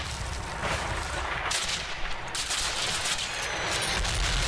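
A tank in the Call of Duty campaign fires amid a dense, continuous roar of battlefield gunfire and blasts, loud and close with heavy noise throughout, no speech.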